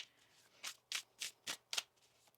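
Soft, quiet riffles of tarot cards being shuffled, five or six quick swishes in a steady rhythm, close by.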